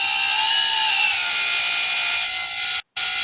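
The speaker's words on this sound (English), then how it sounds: "Turning this knob activates the hydraulic system." The hydraulic system of a 1/14 scale LESU WA100 RC wheel loader runs as a steady, loud electric whine with a high pitched tonal hum, nearby and alone, broken by a brief dropout near the end.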